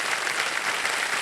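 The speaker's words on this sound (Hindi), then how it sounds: "आप तालियां बज जाए कविता जी के लिए" A game-show studio audience claps for a contestant named Kavita after her 12.5 lakh rupee win, a short, even burst of dense applause.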